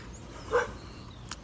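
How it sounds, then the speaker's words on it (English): One short dog bark rings out at a distance, fairly faint, against a quiet background. "There's Eden barking"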